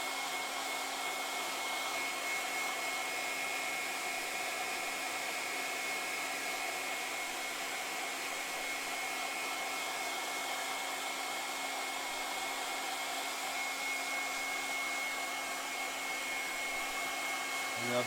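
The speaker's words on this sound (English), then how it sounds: "turned the little bowl while this was drying and let Joe use the air dryer" An air dryer blows steadily at close range to dry paint on a small bowl, a constant even whoosh that holds unchanged for about eighteen seconds.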